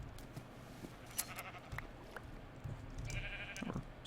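A sheep bleats a few times in the Minecraft modpack Forgecraft, moderately near, over a steady ambient game background with no talk.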